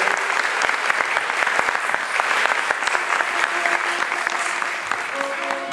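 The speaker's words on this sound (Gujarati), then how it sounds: "આપણે તાળીઓ નાખી" An audience claps together at a Swaminarayan religious discourse in Kenton, Harrow, London: dense, even applause from a hall full of people, loud and sustained for several seconds.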